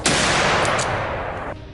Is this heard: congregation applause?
no